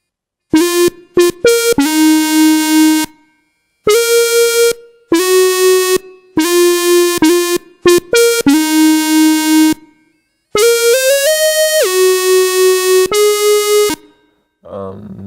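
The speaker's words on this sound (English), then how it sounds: "It's an emulation of a Moog synthesizer, and so you can only play one note at a time." A bright, buzzy Monarch monophonic synth lead, emulating a Moog, plays a staccato melody of single notes, some gliding between pitches, with brief gaps between phrases.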